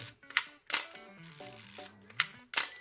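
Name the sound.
Nikon FM2 film camera shutter being cocked and released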